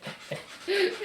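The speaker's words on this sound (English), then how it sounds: "Sorry about the squeaking. Our dog's got an ear scratch." A farm dog scratching at its ear lets out short squeaks and a brief high whine, close by, mixed with soft panting-like breaths.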